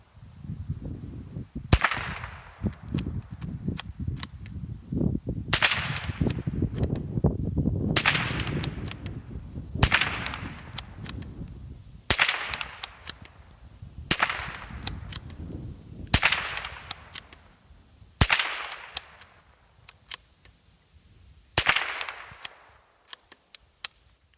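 A Mossberg 341 bolt-action .22 LR rifle fires about nine sharp, fairly loud cracks outdoors in cold weather, each spaced a couple of seconds apart over a low background rumble.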